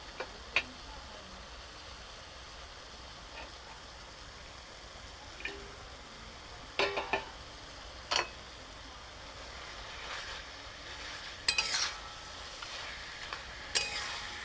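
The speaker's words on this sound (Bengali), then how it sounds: "মাছের মাথাটা দিয়ে একটু ভালোভাবে মিশিয়ে নেব।" Fried fish head is stirred into a young bottle gourd curry, a soft bubbling simmer punctuated by irregular spoon clinks and scrapes against the pot, close and quiet, with no talking.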